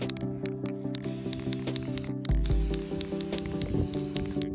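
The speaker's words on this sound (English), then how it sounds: "So I sprayed them with this metallic gold spray paint." Metallic gold spray paint hisses from an aerosol can onto furniture hardware in several close bursts of spraying, broken by short pauses, with a steady hum underneath.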